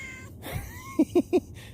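A cat at a barn gives a few calls: a short rising meow, then three quick, close, loud chirping meows in a row, with no talking.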